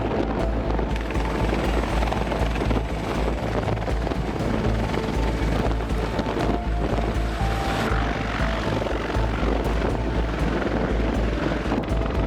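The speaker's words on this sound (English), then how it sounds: "CH-53K King Stallion is the latest addition." A Sikorsky CH-53K King Stallion heavy-lift military helicopter flies close and loud, its rotor thumping in a steady, dense roar that fills the whole stretch with no voices.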